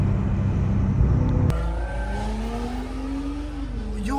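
A BMW M5 Competition engine idles roughly, then revs up with a rising whine that climbs and dips, loud and close.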